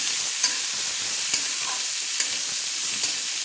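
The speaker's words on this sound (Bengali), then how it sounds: "দিয়ে বন্ধুরা একসঙ্গে সবজিগুলো আমি তেলে ভেজে নিচ্ছি।" Mixed vegetables and green peas frying together in hot oil in a wok for a vegetarian dal: a loud, steady, hissing sizzle with faint stirring clicks, no voices.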